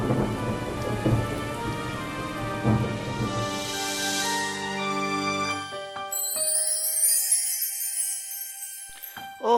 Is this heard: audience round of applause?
no